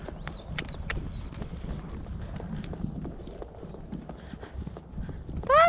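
A golden perlino horse walks under a rider, its hooves clip-clopping in a soft, steady rhythm amid light wind noise, with a few faint bird chirps.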